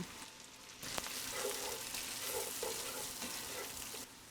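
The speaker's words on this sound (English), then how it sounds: "So now that I have foaming butter, these 1-inch pieces of scallion are going in." Scallion pieces, cut to about an inch long, hit foaming butter in a hot pan and break into a steady, close crackling sizzle that keeps up with a few stirring clatters, with no voices over it.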